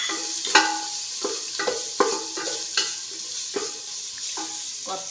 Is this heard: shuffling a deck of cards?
no